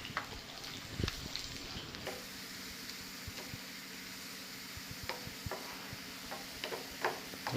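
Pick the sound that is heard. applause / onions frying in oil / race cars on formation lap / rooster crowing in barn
onions frying in oil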